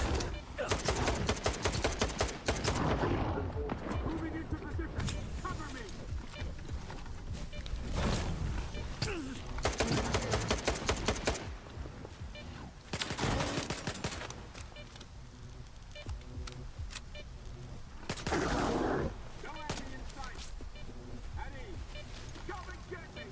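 Rapid rifle fire in the shooter game S.T.A.L.K.E.R. 2, with several loud automatic bursts separated by pauses, interspersed with quieter game sounds and someone talking.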